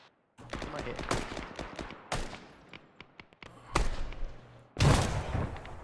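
Bursts of machine gun fire and scattered gunshots in an Arma co-op firefight on Chernarus, loud and close, coming in irregular volleys with short gaps and a heavy blast near the end, with some voices underneath.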